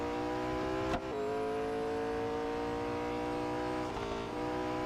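Race car engine in Real Racing 3, a sustained steady drone with stacked harmonics, briefly dipping as the car shifts or slides around one second, then holding on near and loud.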